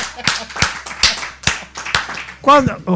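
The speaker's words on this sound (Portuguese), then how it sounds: "assim como vocês aplaudiram, o público aplaude também." An audience claps for a comedian's joke in a short burst of loose, close hand claps at an uneven rhythm, with a voice talking over the end.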